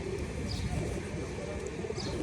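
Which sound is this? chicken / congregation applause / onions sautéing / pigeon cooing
pigeon cooing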